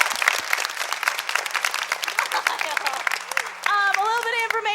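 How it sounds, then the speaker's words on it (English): Audience applause in a children's theater forum for the assistant director, steady dense clapping that runs for several seconds before a voice cuts in near the end. "I think she deserves a wonderful round of applause"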